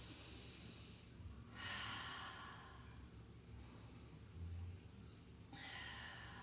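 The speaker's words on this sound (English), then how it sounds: "Take a few breaths here." Slow, deep breathing during a standing yoga pose, with three long airy exhales spaced a few seconds apart, close and soft against a quiet room.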